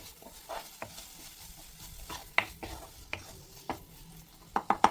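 Pav bhaji cooking in a pan as masala powder goes in, with a faint sizzle under irregular scrapes and clinks of a spoon stirring against the pan, close and moderately quiet.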